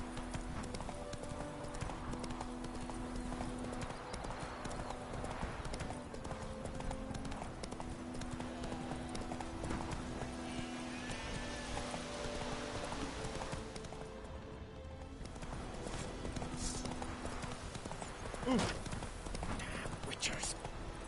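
Hooves of the horse Roach from the video game The Witcher clop in a steady galloping rhythm, running continuously under game music and occasional voices.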